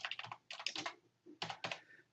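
Someone types a search into a computer keyboard in quick bursts of soft clicks, with short pauses between groups of keystrokes and no voice.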